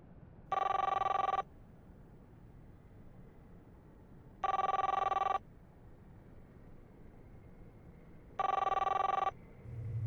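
A telephone bell rings three times in evenly spaced bursts of about a second each, loud and close over a quiet room hum.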